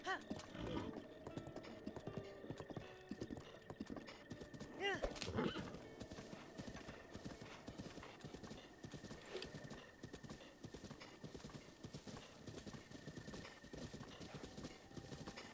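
Rhythmic hoofbeats of a galloping horse in The Legend of Zelda: Breath of the Wild, a steady clip-clop pattern up close with a neigh partway through and a person talking over it.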